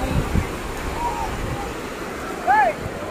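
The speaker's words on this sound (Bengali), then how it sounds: "ঢেউটা বাড়ছে না।" Ocean surf rolls in at a bathing beach, a steady broad wash of water and wind noise that fills the whole clip, with a couple of brief whistle-like tones rising above it.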